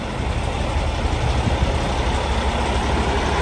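A brand new 2018 Peterbilt 389 truck idles close by, its heavy diesel engine giving a steady, continuous low rumble with no pauses.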